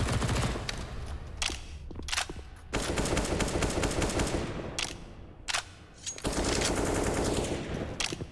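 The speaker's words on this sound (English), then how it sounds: "especially against that SMG, just chucking bullets into the smoke" SMG fire rattles in Counter-Strike on the Nuke map during a professional esports match, with dense rapid bursts of gunfire nearly filling the stretch and short pauses between volleys.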